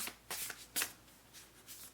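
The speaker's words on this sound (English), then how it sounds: "Continue shuffling." Tarot cards are shuffled in a quiet room, giving soft papery riffling bursts that repeat several times at low volume with no talking.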